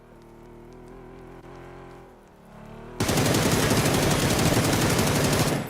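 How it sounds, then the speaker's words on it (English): Rapid automatic gunfire in an Arc Raiders style shooter game bursts in after a few seconds of low humming, then runs as a loud, dense, continuous stream of shots until it cuts off near the end. "the muzzle rise on this gun is ridiculous"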